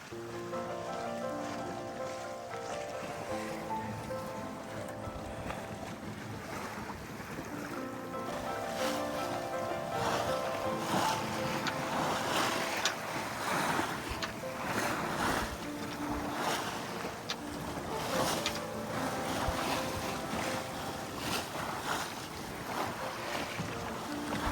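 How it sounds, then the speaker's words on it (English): A Freedom 28 sailboat under sail in wind on open water of Possession Sound, with steady rushing wind and water wash and sloshing waves against the hull, continuous and fairly loud, with no talking. "this is my new to me Freedom 28 sailboat. Finally got some wind."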